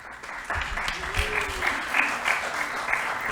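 Audience applause fills a city council meeting chamber, a steady patter of many hands clapping at moderate distance, with a voice briefly audible underneath.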